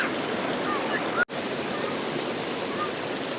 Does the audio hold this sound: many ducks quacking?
no